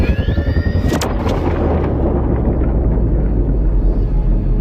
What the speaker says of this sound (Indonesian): bom tersebut meledak menghasilkan gelombang kejut yang begitu dahsyat